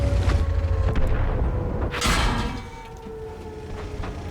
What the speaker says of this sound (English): Comes a shot in the rear from the Centurion